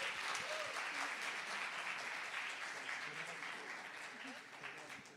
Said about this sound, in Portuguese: Mais uma salva de palmas para Juliana.